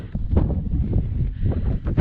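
Strong gusty wind buffets the microphone on a mountain overlook at Keys View in Joshua Tree, loud, low rumbling bursts rising and falling in uneven surges.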